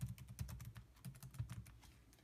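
Quick, light keystrokes tapped on a computer keyboard in an irregular burst, quiet and close, with no voices.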